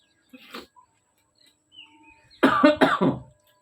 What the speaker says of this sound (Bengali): মুড়ি খেলে আমার কাশি পায়